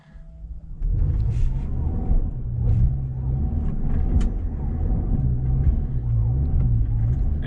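A 2020 Toyota Highlander Hybrid off-road with the gas pedal floored and wheels slipping, heard as a loud, steady low rumble and engine drone that holds throughout after a brief quieter start.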